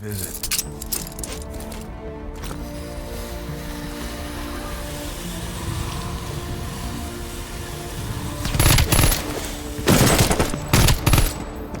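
Automatic gunfire in the Call of Duty: Black Ops Cold War campaign: after a stretch of steady mechanical game ambience, several loud, rapid bursts of fire rattle out close by near the end.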